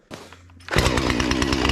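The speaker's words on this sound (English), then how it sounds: "I'll go through one tank of gas on the chainsaw" A gas chainsaw cutting firewood to refill an off-grid woodshed in Minnesota: the engine idles briefly, then revs to a loud, steady, close-up roar that holds to the end.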